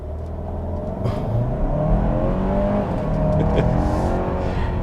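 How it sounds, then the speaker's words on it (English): A turbocharged 2022 Kia Sorento X-Line SX Prestige accelerates hard, its engine drone rising steadily in pitch under continuous road and cabin noise, heard from inside the vehicle. "Let's do an acceleration run here real quick and see how the power delivery is"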